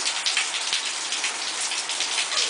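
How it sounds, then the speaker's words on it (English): Steady rain pouring down, a dense continuous hiss with scattered drop patters, loud and near, with no voices. "it's finally raining"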